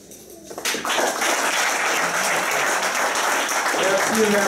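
Audience applause at a book dedication ceremony, a dense steady clapping that swells in after a brief quiet start and holds loud to the end, with a voice faintly over it.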